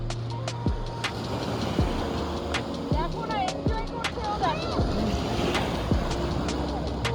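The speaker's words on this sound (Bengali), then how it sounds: "এই বোট ছেড়ে দিচ্ছে" A boat pulls away across the sea off Thailand, with rushing surf and wind, scattered sharp knocks and a low rumble that stays at a fairly steady level.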